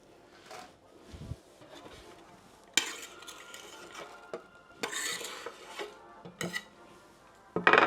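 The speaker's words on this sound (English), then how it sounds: "we're going to whack our onions in and pop this on a really nice low heat just to saute them" Onions sautéing gently in olive oil over low heat, a faint soft sizzle with intermittent scraping and clattering of utensils against the pan, some louder knocks near the end.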